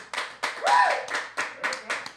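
A small studio audience on a comedy web show claps for Juancito Venezuela, a few distinct close handclaps in short bursts, with a brief vocal sound mixed in.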